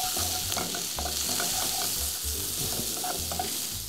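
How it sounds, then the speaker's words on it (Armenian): Tomato paste frying in a pan on a gas stove, lightly seasoned with salt and black pepper, gives a steady close sizzle with soft stirring scrapes throughout. "շարունակենք տապակել։"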